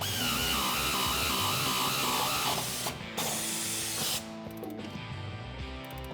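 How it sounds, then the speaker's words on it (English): An air ratchet whirs loudly and continuously as it tightens a sway bar bolt on a 2005-2014 Mustang, its steady mechanical buzz cutting out briefly and then running on in shorter bursts nearby. "My impact won't fit, so let me get my air ratchet"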